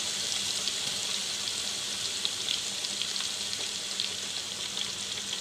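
Beef pakoda frying in hot oil, a steady, close hiss and crackle of sizzling batter with small pops throughout, without talk.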